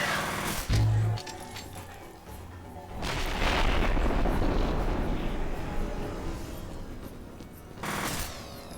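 A grenade goes off during a firefight in the shooter game F.E.A.R. Perseus Mandate: a sharp blast near one second, then a long, loud rumbling roar of explosion and gunfire, and another burst near the end.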